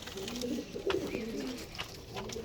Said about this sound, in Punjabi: ਉਹ ਕਬੂਤਰ ਹਾਜ਼ਰ ਆ